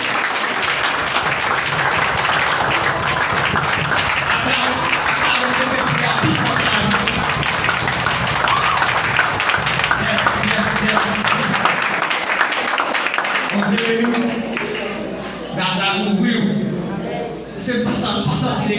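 A church congregation bursts into sustained applause during a sermon, dense clapping loud and near for most of the stretch before thinning out, with voices and scattered talk mixed in toward the end.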